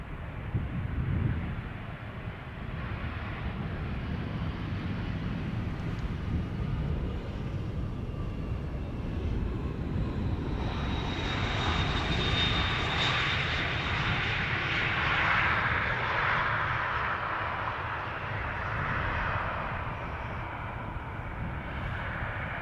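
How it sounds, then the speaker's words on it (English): A Delta airliner on flight 37 to Orlando at Schiphol Airport, a loud, sustained jet engine roar that swells and holds steadily for the whole stretch, with a rising whine in the middle and no talking. "That's Delta going to Orlando, flight 37. Loud mofo."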